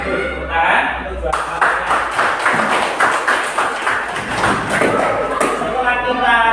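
A classroom of students claps hands together in a lively burst, with sharp overlapping claps and taps close by and voices talking throughout.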